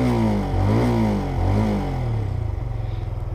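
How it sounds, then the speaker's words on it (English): A Benelli Leoncino 125 motorcycle engine revs up and down in smooth, steady swells, then settles into a throbbing, pulsing idle, loud and close. "Let's have a little listen to it, how it sounds, shall we?"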